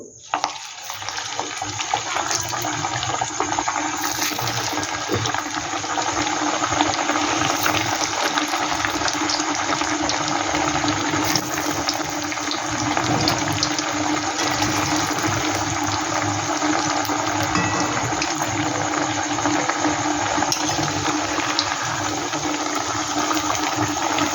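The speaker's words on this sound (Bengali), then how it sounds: "বাকিগুলো বন্ধুরা আমি একইভাবে ভেজে নেব" Evening snacks deep-frying in hot oil, a steady dense bubbling hiss that runs continuously and evenly throughout, close and fairly loud with no talk over it.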